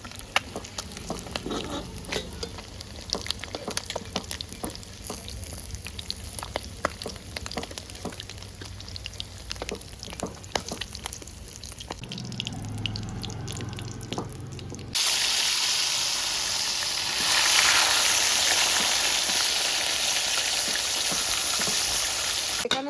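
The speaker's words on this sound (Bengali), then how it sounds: "মাছগুলো ভাজা হয়ে গেছে লাল লাল করে এবার আমি তুলে নিই" Fish frying in oil: a steady crackling sizzle with many small pops, then a brief clatter and a louder, denser hiss as the pieces are lifted or shifted in the pan.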